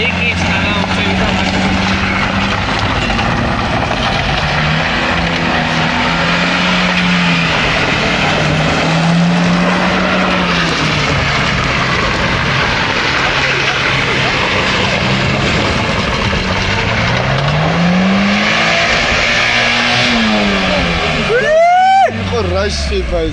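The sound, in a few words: VAZ-2106 car engine revving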